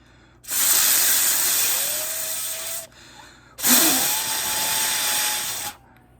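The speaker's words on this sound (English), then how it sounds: "you can blow some of the dust out from the sides here" Compressed air blasts dust out of the spinning HVAC blower fan in a 2001-2002 Volvo V70, two loud, steady hissing bursts of about two seconds each with a rising fan whine underneath.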